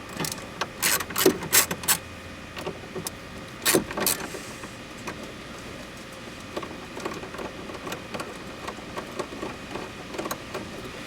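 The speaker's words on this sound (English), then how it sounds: "All you got to do is take a Torx bit and remove these 2 front screws." Torx screws being backed out of the front of a Porsche 991 or 981 interior with a driver bit, heard as close clicking, ratcheting and mechanical ticks in short bursts, with quieter scattered clicks afterward and no talking.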